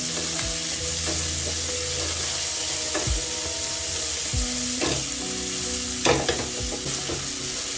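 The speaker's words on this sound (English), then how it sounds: "Then I'll go in with my onions as well as my ginger. Then I'm going to saute this as it hits the bottom." Onions and ginger sautéing in a hot pan for butter chicken, a continuous sizzle broken by repeated spatula scrapes and knocks against the pan bottom, close and fairly loud with no talking.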